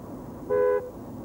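In-car collision warning of a 1994 Jaguar Prometheus self-driving research car: a single short, clear electronic tone, like a soft horn, lasting about a third of a second over a steady low cabin hum.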